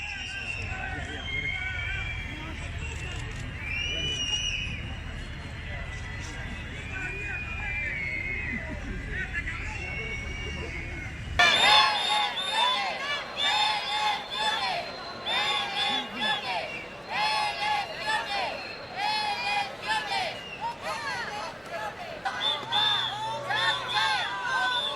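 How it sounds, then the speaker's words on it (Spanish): Large outdoor crowd at a Spanish national day event jeering Pedro Sánchez with whistling, booing and chanted shouts of "elections", a dense roar that swells sharply partway through into loud rhythmic chanting. "Ahí le reciben con una pitada, abucheos, gritos de elecciones"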